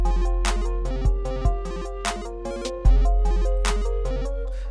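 FL Studio 12 synth melody in a beat, with pitch modulation jumping up an octave: bright, repeated plucky notes in a steady pattern over booming deep bass hits that land a few times, loud and close.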